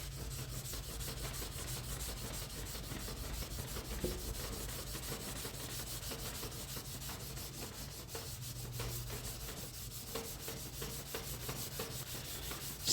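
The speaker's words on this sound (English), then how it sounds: "Sand a minute and check. You can always go back and sand a little more if you need to." A wooden piece is sanded by hand in quick, rhythmic back-and-forth strokes. The soft rasping is steady and fairly quiet and continues without pause, with no voices.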